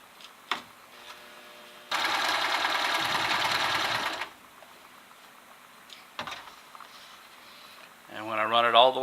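A sewing machine stitches the seam of an infinity scarf in one steady, buzzing run of about two seconds, with quiet clicks and handling noises before and after and a brief voice at the end.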